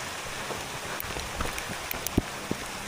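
Heavy rain falls at an inn with a view deck in Banaue, a steady hiss of rain on surfaces with scattered louder drops and taps standing out near the end.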